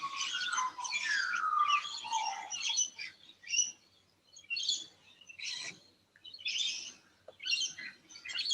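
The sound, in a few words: birds chirping at dawn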